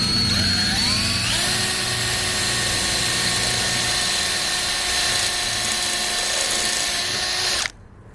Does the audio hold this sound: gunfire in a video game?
no